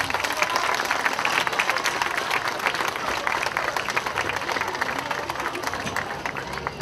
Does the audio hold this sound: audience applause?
yes